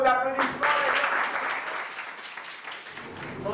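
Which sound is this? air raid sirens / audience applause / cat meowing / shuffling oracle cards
audience applause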